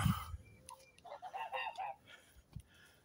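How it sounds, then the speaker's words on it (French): Geese in a backyard poultry area, giving a run of soft honking and gabbling calls at a moderate distance, with a couple of low thumps around them. "Là on a des oies."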